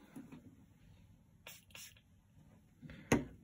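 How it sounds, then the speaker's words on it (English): Two quick hissing bursts of cleaner from a trigger spray bottle land on a basketball card, close and quiet against a near-silent room, followed by a faint soft dab. "Let's put two sprays on it."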